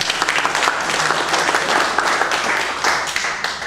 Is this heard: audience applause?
yes